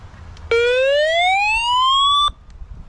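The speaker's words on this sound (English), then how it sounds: "Hit him with the siren, man." A single loud siren whoop rising in pitch for under two seconds, then cutting off, close by with a quiet background.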